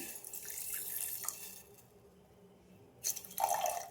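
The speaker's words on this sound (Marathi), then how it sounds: "अर्धा ग्लास पाणी टाकू आपण" Water splashes and trickles into a vessel holding sugar, a steady pour of half a glass that pauses briefly then resumes with louder splashing.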